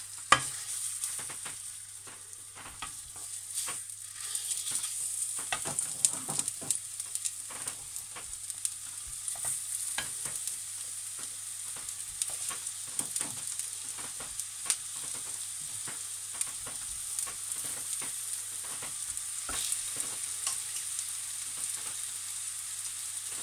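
Low-carb longanisa sausage fries over low heat in a pan, a soft, even sizzle under a low hum, broken by frequent light clicks and scrapes as it is stirred and turned.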